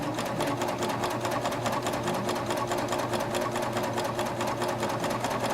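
Sewing machine fitted with an Ovation belt loop binder, running continuously and loudly at close range with a rapid, even stitching rhythm and no pauses.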